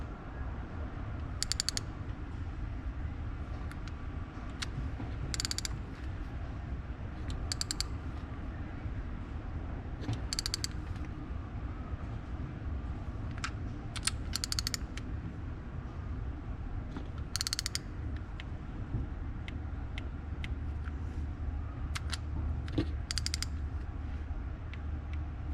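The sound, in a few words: torque wrench tightening nuts on a 6.7 Cummins head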